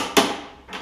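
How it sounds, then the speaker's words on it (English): Two sharp knocks land about half a second apart, close and fairly loud, like a hammer striking wood, during repair of a Toro Recycler lawn mower with a Kohler engine. "get my alternative hammer here."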